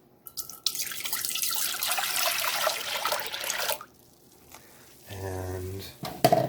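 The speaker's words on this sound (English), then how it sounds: "I'm going to take this and pour it in here." Violet flower infusion is poured into a pot as a steady splashing stream lasting a few seconds. It stops, then a shorter pour or trickle follows, fairly close and moderately loud.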